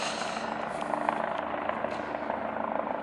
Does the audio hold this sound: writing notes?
no